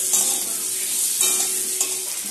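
Potatoes fry with a little salt and turmeric in a hot pan, giving a steady close sizzle with brief stirring scrapes, no voices.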